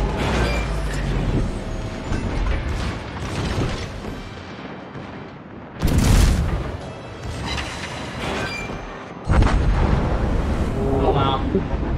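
Torpedo hits strike a warship in a World of Warships clan battle, two heavy booming impacts bursting out over a steady wash of sea, wind and machinery, with voices talking in between.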